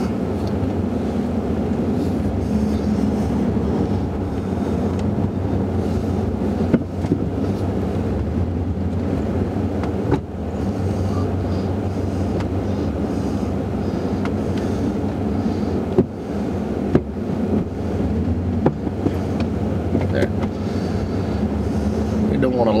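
Pickup truck plowing snow in a side lot, its engine holding a low steady drone with faint scraping and a few sharp knocks.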